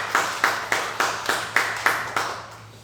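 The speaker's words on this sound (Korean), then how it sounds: "박수로 축하하고" Slow, evenly spaced claps from a church congregation celebrating a birthday during a service, about eight distinct beats in three seconds over a faint steady hum, with no talking.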